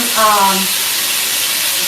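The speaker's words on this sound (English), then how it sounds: "let it sizzle. Then all I'm going to do, let it get a little brown." Food sizzling in a frying pan while being browned for a French dinner, a steady broadband hiss filling the clip at close range, with a brief voiced tone near the start.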